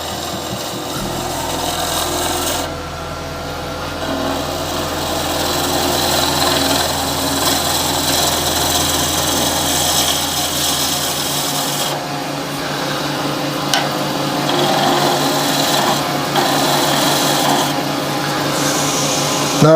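Freshly sharpened turning tool cutting very dry timber on a wood lathe for a wooden shaving brush, a continuous rasping, scraping cut over a low motor hum, with brief pauses and changes as the tool moves along the wood.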